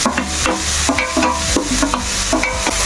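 Onions sizzle and fry in a pan for a chicken curry as a utensil stirs them, with rhythmic scraping strokes about every half second over a steady crackling hiss.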